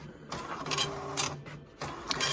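A slow dot-matrix-style printer running a print job from a Tandy 1000HX computer, buzzing in repeated line-by-line passes with brief gaps between them, close and moderately loud.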